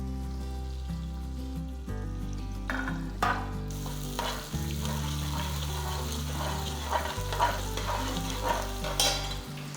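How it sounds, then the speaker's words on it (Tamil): Small onions fry in hot oil for fish kulambu with a soft, crackling sizzle, partly buried under loud background music with deep sustained bass notes. "ஒன்றரை கைப்பிடி அளவுக்கு சின்ன வெங்காயம் தாளிக்க போட்டுக்கலாம்"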